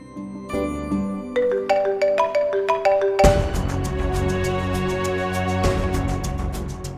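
A mobile phone rings for an incoming call with a melodic ringtone. A soft rising run of tones gives way to a louder, fuller, rhythmic tune that repeats steadily for several seconds.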